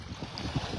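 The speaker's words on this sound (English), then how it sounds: "Probably can't hear me over the wind." Steady wind buffets the microphone on a Gulf Coast beach at Delnor-Wiggins in North Naples, Florida, a continuous low rushing roar with no voices.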